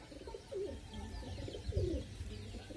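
Pigeons coo in soft, rounded phrases, two clear bouts standing out over a low rumbling background, fairly close with no talking.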